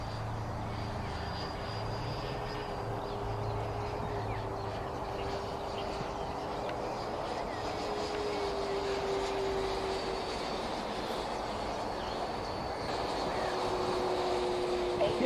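A model airplane in flight gives a faint, steady motor drone with a thin sustained whine, holding level at a distance throughout.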